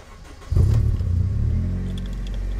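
A Honda Civic Type R engine, tuned to 247 hp, turns over and catches, settling into a steady, deep idle rumble that continues to the end.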